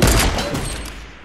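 Gunfire rumbles in a mobile shooter game, a dense burst of booming shots that fades over about a second, loud and close with no talk.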